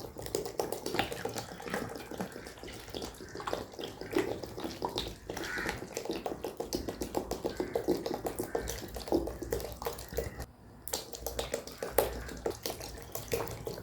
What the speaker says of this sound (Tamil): தண்ணி ஊற்ற ஊற்ற நல்லா நுர வரும்